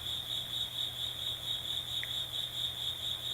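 A single cricket trills with a high, steady, unbroken chirp, loud and close over a quiet room hum, with no speech.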